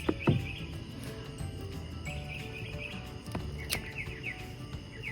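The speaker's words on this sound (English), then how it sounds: "There's a happy bird on top of the house." A bird sings from the top of a house, with faint, scattered chirps and short tweets at a distance over a soft insect and cricket hum.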